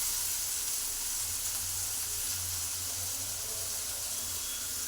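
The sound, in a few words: onions frying in a pan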